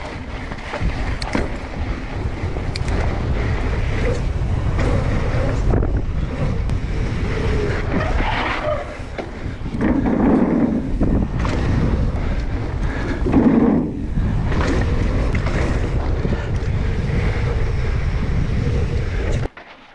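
A mountain bike rolls down a trail drop, heard as continuous rushing wind and tire roar with rough rattles and thumps over the terrain, loud and close to the microphone.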